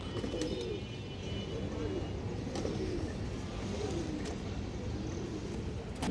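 Big, lively pigeons in a breeding pair coo in low rolling phrases that repeat every second or so, close by over a steady hum of background noise.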